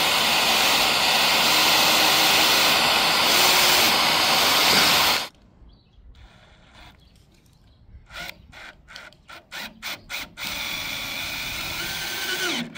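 A loud continuous roar of a shop vacuum runs while pilot holes are drilled during assembly of a winter shelter on a van. The noise then drops to quieter handling, with short rhythmic bursts of the drill before the vacuum roar returns.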